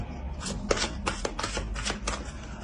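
Tarot-style cards being shuffled for a predictive reading, a steady run of riffling and flicking bursts lasting throughout, close and fairly loud with no talking.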